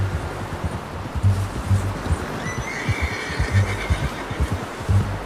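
A horse in Red Dead Redemption 2 lets out a rising whinny partway through, over a steady rhythm of nearby hoof clops and soft rustling.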